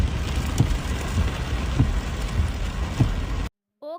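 Heavy rain pours steadily in the UAE with a dense continuous hiss and occasional heavier drops, then cuts off abruptly near the end, where a brief voice is heard.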